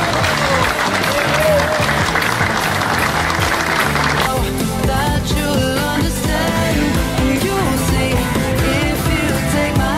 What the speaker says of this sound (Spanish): pedimos un fortísimo aplauso para él